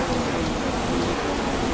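Steady rain in the F1 2016 video game, at a Singapore Grand Prix race, a dense even hiss of falling water that holds at constant loudness throughout, with no voices.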